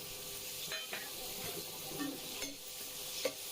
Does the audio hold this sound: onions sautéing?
yes